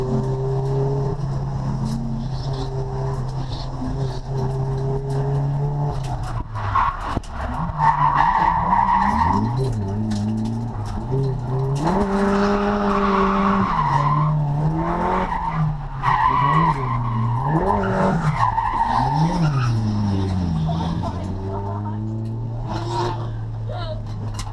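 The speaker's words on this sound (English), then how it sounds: "as you can hear, the engine really isn't feeling it" A worn CA18DET turbo engine in a drift car at a track day, its revs rising and falling in repeated sweeps for over twenty seconds while the tires skid and squeal loudly, with voices under it.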